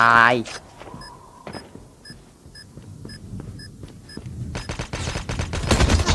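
Gunfire rings out in a Call of Duty match: single shots and short bursts, with electronic beeps in between, then a dense burst of firing at the end. A voice talks excitedly over the game sounds.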